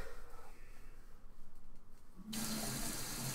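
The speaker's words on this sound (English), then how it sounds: "Oh god, this is the fun now, in the shower." Shower water running in the video game The Forest, a steady broadband hiss that starts abruptly partway in and holds loud and close to the end, with fainter watery noise before it.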